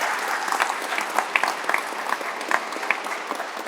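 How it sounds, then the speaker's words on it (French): Audience applause at an aeronautics museum inauguration in Provence, a dense, steady clapping from a room full of people that carries on evenly throughout, close and fairly loud, with no voices over it. "je vous demande de les applaudir tous les deux"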